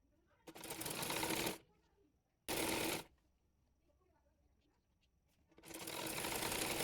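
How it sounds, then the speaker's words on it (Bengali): Quick bursts from a sewing machine stitching a garment sleeve onto the body: three rapid rattling runs, each about a second or longer, close and loud with quiet pauses between. "একইভাবে অপর হাতাটিও সেলাই করে নেব।"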